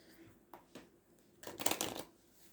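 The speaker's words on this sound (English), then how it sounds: "Shuffled them so I can't look at the bottom of the deck." A deck of cards being shuffled close up: a few quick riffling flicks, then a dense, louder burst of rapid shuffling.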